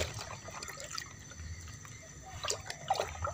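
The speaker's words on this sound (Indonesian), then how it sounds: "Kita aduk kurang lebih selama 2 menit agar Supernasanya bisa betul-betul larut dalam air" Water being stirred to dissolve SUPERNASA fertilizer in a bucket of about 20 liters, a soft, continuous sloshing and trickling with small splashes, faint and close, with no talk.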